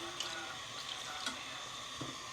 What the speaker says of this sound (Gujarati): વેજીટેબલ રેડી થઈ ગઈ છે તો હવે પાણી નાખી દઈએ આપણે